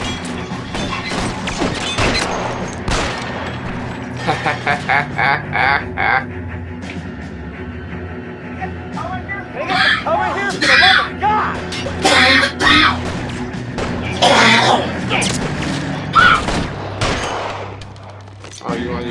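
Gunfire in an L.A. Noire shootout, loud rapid bursts of shots in clusters with short pauses between, mixed with game dialogue and someone shouting.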